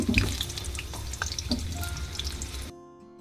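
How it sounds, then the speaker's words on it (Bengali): Potatoes fry in hot oil with a steady, close crackling sizzle and a few louder pops, then the sound cuts off abruptly near the end. "এখন আলুটা ভেজে নিচ্ছি।"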